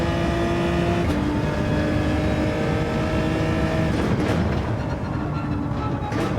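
Race car engine in Gran Turismo 7 drones loud and steady with traction control on, holding a buzzy, nearly flat pitch that barely climbs, as though struggling to gain speed.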